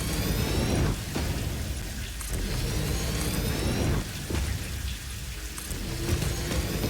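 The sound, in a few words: rain in a video game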